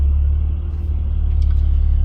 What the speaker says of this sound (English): I'm just backing up in my my little carport